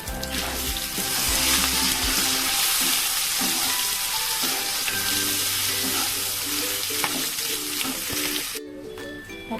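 Soya chunks frying in a pan with black pepper and red chilli powder, a steady close sizzle with scraping stirs that cuts off sharply near the end.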